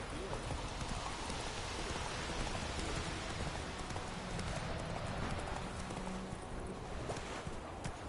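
Roach the horse gallops through rain in The Witcher 3, rapid hoofbeats pounding under a steady wash of rainfall, with voices speaking over the scene.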